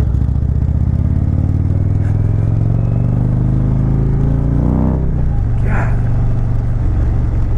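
The 116 Stage-3 engine of an Indian Chieftain Dark Horse motorcycle rumbles loud and close, revving up in a rising sweep and then dropping back to a deep idle.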